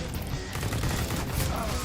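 Rapid bursts of gunfire from the game CS:GO crackle densely throughout, loud and continuous, with a faint voice underneath.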